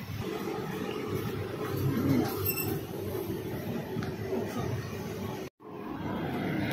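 A Dubai Metro train runs with a continuous rumbling drone and a brief wheel squeal. The sound cuts out for a moment near the end, then resumes.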